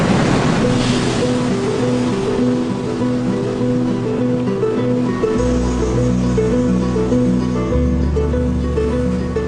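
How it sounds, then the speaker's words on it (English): Surf and breaking waves of the Pacific Ocean along the coast by Chan Chan, Peru, a steady loud wash of water with wind, alone and with no voices. "Lying alongside the city of Chan Chan is the mighty Pacific Ocean."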